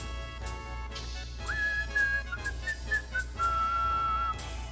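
A streamer whistles a wavering melody while playing the rhythm game Theatrhythm Final Bar Line on Switch, the clear close whistle gliding and holding notes over soft game music and taps.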